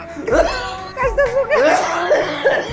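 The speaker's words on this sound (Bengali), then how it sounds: "আর আব্বা তো কাশতেছে কেন?" An ill, bedridden father coughs at close range, several harsh voiced bursts in quick succession that carry a rough, throaty tone.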